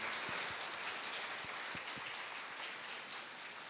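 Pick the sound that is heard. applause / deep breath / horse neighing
applause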